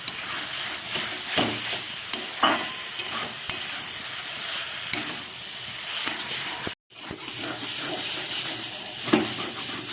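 Cabbage fries in a pan with a steady hiss and sizzle, with occasional stirring scrapes and one brief dropout partway through; no talking.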